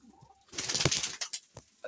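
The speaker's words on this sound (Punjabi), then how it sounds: "ਦੋ ਵੈਸ਼ੀ ਕਬੂਤਰ ਹੈਗੇ ਨੇ ਜੋੜਾ ਜੀ" A pair of pigeons kept for sale in Punjab, giving a short close coo with soft, breathy throat sounds, brief and moderately loud.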